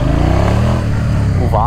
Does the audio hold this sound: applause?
no